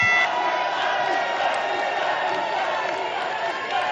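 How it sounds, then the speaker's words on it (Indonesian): Supporters of candidate pair number 2 applaud and cheer at a public debate for the Central Java gubernatorial election. The crowd noise is loud and continuous, a dense wash of clapping and shouting that lasts the whole few seconds. "Kepada pendukung paslon nomor urut 2, boleh tepuk tangannya."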